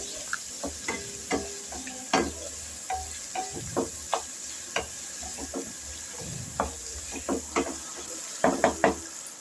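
Ingredients for fish salna sautéing in a pan, a faint continuous sizzle close by with irregular clicks and knocks of a spoon stirring against the pan, no talking.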